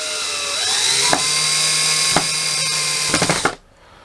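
A cordless drill on a low clutch setting and low speed whines steadily while driving screws into a build. A few clicks break the run, then it ratchets as the clutch slips and stops abruptly.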